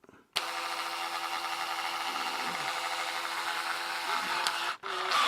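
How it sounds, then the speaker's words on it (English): An electric drill whines steadily through metal on a Gazelle bicycle fork for several seconds without a break, dipping briefly near the end before picking up again. "I'm drilling into that."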